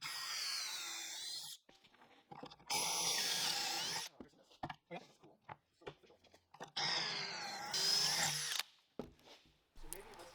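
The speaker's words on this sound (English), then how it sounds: "The other 3 dividers going into the cabinet will be attached with pocket screws." A power drill drives pocket screws into plywood cabinet dividers in a workshop, two loud sustained bursts of whirring separated by quieter knocks, shuffling and handling noise.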